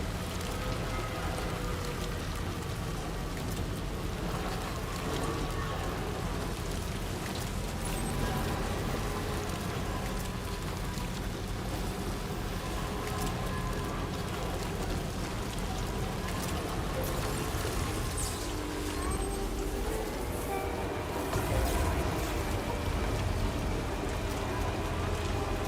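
Steady rain falling in the video game Death Stranding 2, a continuous even patter over soft sustained tones, with no break across the whole stretch.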